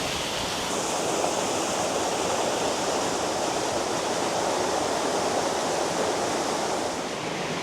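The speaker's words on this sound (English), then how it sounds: "It is still a really nice waterfall." A waterfall in Yorkshire pours steadily on a sunny day, a dense, unbroken rush of falling water that stays loud and even from start to finish, with no voices.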